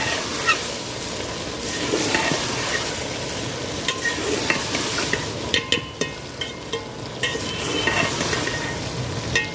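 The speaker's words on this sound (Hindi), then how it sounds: "इसको हम अच्छी तरह मिक्स कर लेंगे" Okra (bhindi) fry being stirred in a pan, a steady hiss of frying under repeated scraping and clinking of the spoon, close and fairly loud, with no talking.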